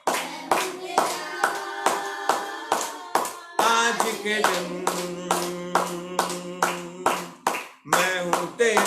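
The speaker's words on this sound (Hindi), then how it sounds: "कम ऑन सब लोग तालियां बजाएंगे।" A Sunday church congregation claps hands in a steady beat, roughly two claps per second, close and crisp alongside sung worship and music, with a short spoken phrase early on.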